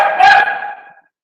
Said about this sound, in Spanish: Los ladridos de los perros van de yapa